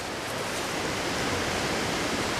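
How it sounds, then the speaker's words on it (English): Water rushes through a narrow gap at a mill dam, a steady, dense broadband roar with no breaks, close and loud throughout. "this is where the water's rushing through"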